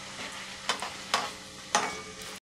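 Roasted chana dal frying briefly in oil in a pan for poha chivda: a soft, steady sizzle with three sharper scraping stirs, and no voices.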